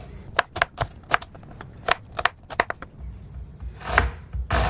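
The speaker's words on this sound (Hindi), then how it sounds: "एक यहाँ पे मैंने बड़ा प्याज लिया, इसकी कटिंग करेंगे" A knife chops a large onion on a board in quick, irregular strokes, a dozen or so crisp close-up thuds with short pauses, then a few heavier cuts near the end.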